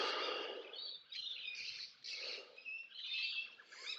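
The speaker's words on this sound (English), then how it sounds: "I'm just probably going to be distracted by some birds that are flying past me" Wild birds call along a gravel dirt track near Grenfell, New South Wales, a series of bright, chattering chirps and squawks in bursts, fairly close and alone without talk.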